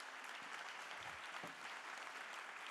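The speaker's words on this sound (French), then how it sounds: "Vous pouvez les applaudir." An audience at a round-table discussion on designing cities for 50°C heat claps steadily, a dense, fairly faint patter of applause heard from a distance.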